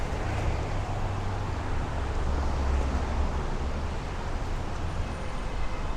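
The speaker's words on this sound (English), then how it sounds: "That was a big 70 mile an hour gust that just hit me." A strong 70 mph wind gust roars during a severe thunderstorm in Bensonhurst, Brooklyn, a broad continuous rush with low buffeting rumble on the microphone, steady and loud throughout.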